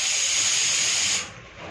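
A kitchen pressure cooker lets off a loud, high steam whistle and rushing hiss for about a second, then cuts to a quieter hiss.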